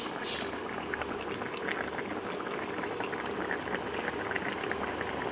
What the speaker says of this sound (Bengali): মাছের ঝোল আরও পাঁচ থেকে ছ মিনিট ফুটিয়ে নিলেই তৈরি হয়ে যাবে